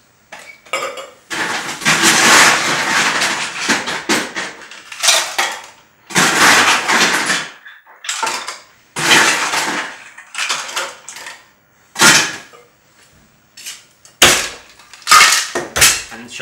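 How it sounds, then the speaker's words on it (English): A metal cocktail shaker filled with ice and shaken hard, loud rattling bursts of cubes clattering inside, first long vigorous shakes and then shorter rhythmic jolts, close up with no talking. "Then we're going to fill the shaker with ice."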